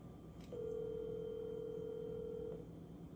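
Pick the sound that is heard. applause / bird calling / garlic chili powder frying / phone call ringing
phone call ringing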